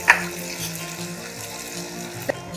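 Chopped onion and oil sizzling in a pan where mustard seeds and cumin have been crackling, for a Kerala rava appam breakfast; a steady close fry with a couple of sharp pops.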